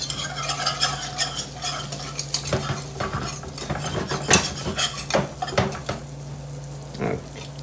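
A whisk stirs butter in a cast iron Dutch oven, clinking and scraping against the metal in irregular strokes over a soft sizzle, with a low steady hum beneath.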